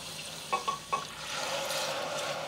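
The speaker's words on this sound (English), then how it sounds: "adding about half a cup of milk." Milk is poured into a hot pan and stirred for a baked seafood rice sauce: a few soft clinks of a utensil against the pan, then a rising steady sizzle and bubbling hiss, close and moderately quiet.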